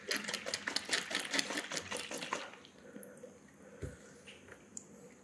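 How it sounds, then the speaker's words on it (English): A container of turbo yeast is shaken hard, giving a rapid, rhythmic rattling and sloshing for about two and a half seconds. It then fades to quiet, with one faint knock afterward. "Shake the living hell out of it."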